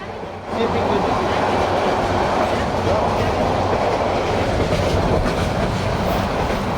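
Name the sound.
riding on a train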